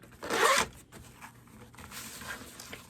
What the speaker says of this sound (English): We're gonna make sure that the zipper is open